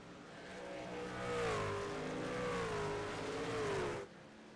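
A logging truck in a racing video game revs hard on a dirt track, its engine rising and swaying in pitch for about four seconds before dropping off abruptly.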